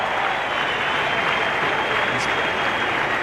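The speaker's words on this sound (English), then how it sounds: "Pakistan here, the crowd's happy." Cricket crowd cheering and clapping at a 1992 World Cup match between Pakistan and South Africa after a boundary stroke, a broad, steady roar of applause with a commentator's voice faintly underneath.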